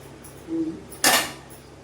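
A spoon scrapes and knocks against a cooking pot of fish curry being stirred, a short grind followed by one sharp clatter, close and fairly loud with no talk.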